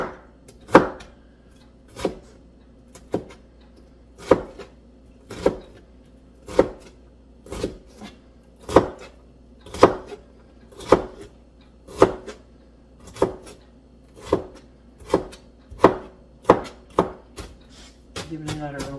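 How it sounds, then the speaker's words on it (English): A knife chops green pepper into small pieces on a cutting board, giving a steady run of crisp, evenly spaced knocks, close and clear, about one per second. "So just cut it in little small pieces because you don't really want big chunks of green pepper"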